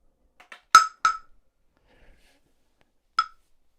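A Nintendo Switch 2 with a clear tempered glass screen protector dropped from about two feet, giving a few sharp, bright hard clacks as it lands and bounces, followed by one more isolated clack after a silent pause.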